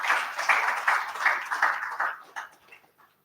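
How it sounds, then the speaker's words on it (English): Audience applause for the Chief of Army Staff at a military investiture ceremony for promoted senior officers at the Army War College, Nigeria: a dense burst of clapping with a few sharper pulses, gradually thinning and fading out over about three seconds. "I want to humbly and most respectfully request we applaud the Chief of Army Staff for this great privilege"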